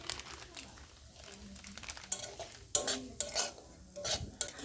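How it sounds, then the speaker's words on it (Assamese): Semolina gets stirred and fried in ghee for sujir halwa, a soft scraping and rustling of the spoon through grains, quiet and close, with light sizzle and faint background voice. "মই প্ৰথমতে চুজিখিনি ঘিৰে অলপ ভাজি ল'ম"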